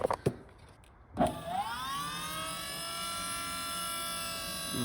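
An electric power steering pump in a G-body El Camino restomod hums steadily with a high whine after a sharp click and short burst at start-up, running close and continuous.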